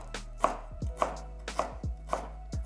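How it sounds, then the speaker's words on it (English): A knife finely chops a piece of ginger on a cutting board in five crisp, evenly spaced strokes about half a second apart, each close and distinct with no talking. "Finely chop a piece of ginger."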